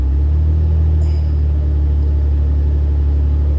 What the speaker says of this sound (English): if I press on the accelerator a bit while holding the brake